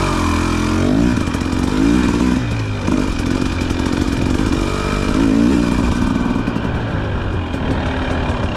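A 2024 Husqvarna 300 TE two-stroke enduro motorcycle with TBI fuel injection rides close by, its engine buzzing and revving continuously with rising and falling pitch throughout, loud and steady with no talk.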